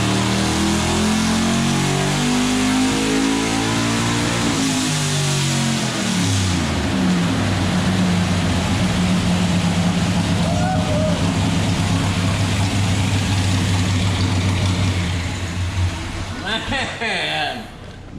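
An all-original 1966 Corvette with a 427 big block engine, mufflers removed, revs loudly and repeatedly, its raw exhaust note climbing and falling before easing off, with people talking nearby.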